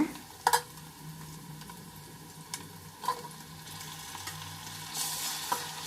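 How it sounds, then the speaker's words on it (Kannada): Tomatoes frying in oil in a pan for chicken biryani, added after golden onions, give a soft, steady sizzle with occasional stirring clinks and scrapes, close and moderately quiet, with no voices. "ಎಣ್ಣೆಯಲ್ಲಿ ಸ್ವಲ್ಪ ಟೊಮಾಟೊ ಬೇಯಬೇಕು"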